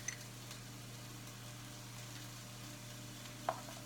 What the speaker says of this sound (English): So I'm frying these